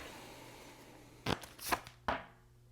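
Oracle cards being shuffled and pulled, three sharp papery riffles and slides in quick succession after a quiet pause, close and fairly loud, with no talk.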